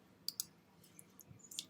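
A few sharp, quiet clicks from a computer mouse or keyboard keys, spaced irregularly against a faint room hum.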